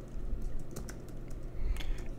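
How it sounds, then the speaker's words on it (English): Quick bursts of keystrokes on a computer keyboard, close and crisp clicks in two short clusters over a low background hum, with no talking. "What if I just typed in action figure?"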